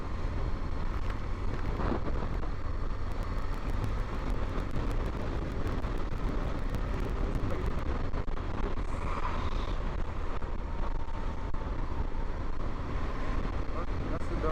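Heavy road traffic heard from a BMW R1200 GS motorcycle, a constant roar of engines and wind rush with a passing vehicle or two, while a rider's voice talks over it.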